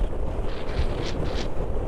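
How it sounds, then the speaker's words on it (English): Strong wind buffets the microphone while riding a 2022 Moto Guzzi V85TT motorcycle behind its windscreen, a constant low roar and rumble, steady and loud throughout the short stretch. "It's just such a windy day. It's crazy windy."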